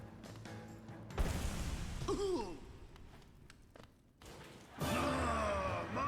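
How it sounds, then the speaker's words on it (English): A crowd gasps in the Hollow Knight video game ahead of the Zote the Mighty fight, with a sudden breathy whoosh early on and a second louder swell near the end over a low musical backdrop. "You hear that gasp from the crowd?"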